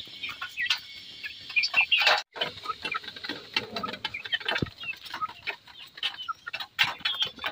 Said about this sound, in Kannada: ಇವತ್ತು ಎಲ್ಲ ಕೋಳಿಗಳು ಚೆನ್ನಾಗಿ ತಿಂತಾಯಿವೆ